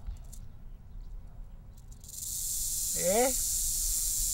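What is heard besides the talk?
rattlesnake rattling its hollow tail segments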